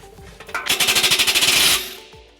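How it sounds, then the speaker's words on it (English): Ratcheting socket wrench with a 15mm socket turning a muffler clamp on a 2010 Nissan Altima, a loud, fast, even train of rattling clicks lasting about a second, close up. "we're going to loosen up this clamp right here using a 15mm socket"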